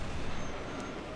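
An enemy ship takes damage in the submarine game Silent Hunter IV, a brief, dense rumbling wash of noise that fills the moment without any clear individual impacts.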